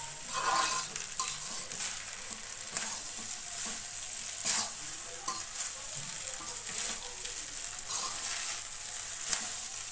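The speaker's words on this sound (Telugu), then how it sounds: "రైస్ వేసుకొని బాగా కలుపుకోవాలి" Rice for tomato rice stirred in a frying pan, with a steady hiss of sizzling oil and repeated scraping spoon strokes throughout, close and continuous, with no talking.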